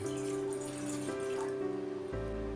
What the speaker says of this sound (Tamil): இப்போ அடுப்பில் ஒரு பாத்திரம் வச்சு அதில் 2 கப் அளவுக்கு தண்ணி ஆட் பண்ணுறேன்.